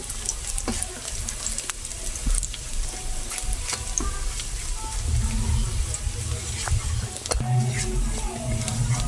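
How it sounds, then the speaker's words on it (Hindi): Onions sautéing in a pan for vegetable kebab cutlets with cumin, a steady soft sizzle with occasional stirring clinks, continuous and close. "ये देखिए प्याज है वो सूते हो रहा है।"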